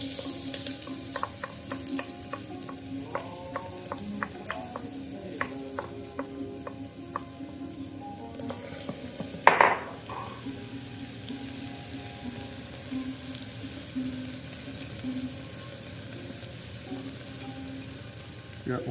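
Onions sizzle in hot oil with cumin in a pan, a steady crackling fry with scattered light stirring clicks and one sharper clatter midway.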